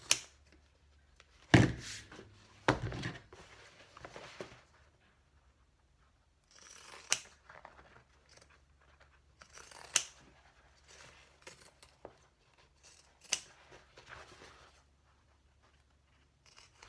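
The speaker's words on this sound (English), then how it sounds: "Cutting with pinking shears kills my hands" Pinking shears cutting cork fabric for a clutch, heard close up as a handful of separate crunchy snips and rustles spaced out over quiet pauses.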